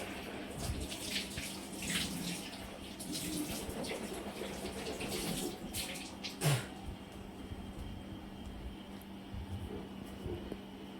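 Water splashes and runs as someone washes their face at a tap, a soft continuous trickle with light splashes and one small knock, faint and close.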